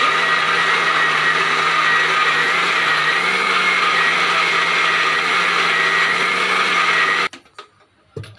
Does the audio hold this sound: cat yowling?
no